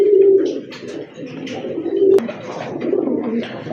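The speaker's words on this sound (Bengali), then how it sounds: "মাশাল্লাহ সিরাজির মাদি কবুতর," A large female Sirazi pigeon coos in repeated low, throaty phrases, close and fairly loud, with a brief sharp click midway and no talking.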